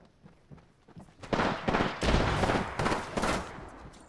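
Rapid bursts of automatic gunfire in the video game Apex Legends on PS4, loud and close, several dense volleys running together over a few seconds with no talk.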